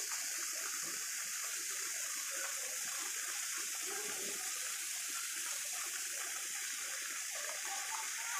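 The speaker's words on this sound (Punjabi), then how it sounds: "ਉੱਪਰ ਪਾਣੀ ਡਿੱਗਦਾ ਜੀ ਦੇਖੋ" Water falling from above beside a pond with a pair of black and white swans, a steady, continuous rushing hiss, fairly soft and unbroken, with no voices.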